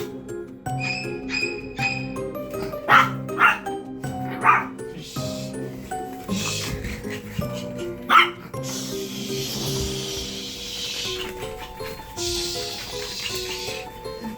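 A small, fluffy pet dog barks indoors at home, giving several sharp, close yaps and bow-wows in uneven bursts, with a few whimpering yips between them.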